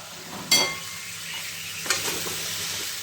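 Chopped carrots and bean pods are mixed in a pan, giving a low continuous sizzle with two distinct scraping clanks of the spoon, close and alone with no voices.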